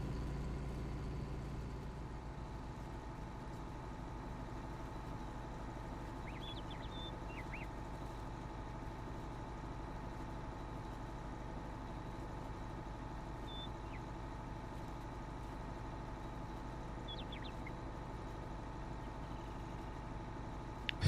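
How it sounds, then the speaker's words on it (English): Tractor engine in the Farming Simulator 19 video game, a steady low idling drone that holds unchanged throughout with no one talking, plus a few faint high chirps over it. "It's like this tractor's going really slow."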